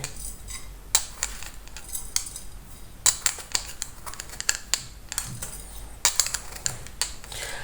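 Spoonfuls of pomegranate seeds are tipped into a roasting pan, making a string of sharp, close clicks and light rattles in irregular bursts over a low steady hum, with no talking.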